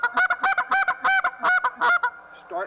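A goose call is worked with throat-driven double clucks, a quick uneven series of loud, close honking notes that breaks off near the end into a brief lower sound.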